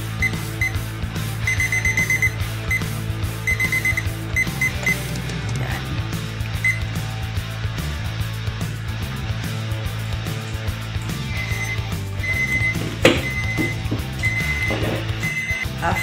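A kitchen timer set while pork ribs steam on the stove, beeping in repeated short bursts at a steady rhythm over continuous cooking background noise, with a brief louder clank near the end.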